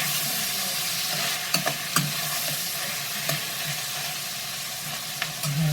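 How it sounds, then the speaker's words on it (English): A cube steak fries slowly in a pan with a steady, even sizzle, broken by a few brief scrapes and stirring clicks from a utensil. "You want to let it get a crust on that side, and it's frying slow."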